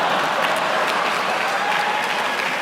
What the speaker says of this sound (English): You're going to get lukewarm applause at USC